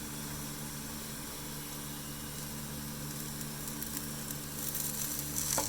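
Potatoes and onions frying in oil in a pan make a steady, close sizzle with a low hum beneath it, growing a little louder and more crackly toward the end.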